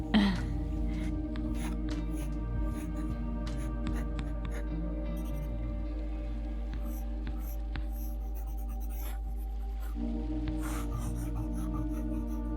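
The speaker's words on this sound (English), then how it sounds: "just me and the sound of the pencil on the page" A pencil scratches and scribbles across paper up close in short repeated strokes, soft and intimate over a low steady hum.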